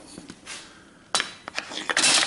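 Hammer blows on bluing salts frozen solid in a metal tank: a few sharp, bright knocks with a hard, slightly crunchy edge, close and fairly loud, with short gaps between strikes.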